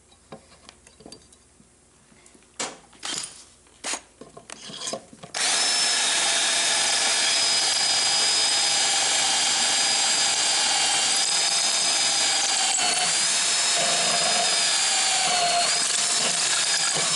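A drill bores a hole through a coin held in a coin ring drill jig, running loud and steady for about twelve seconds after a few short starts and bursts of handling noise.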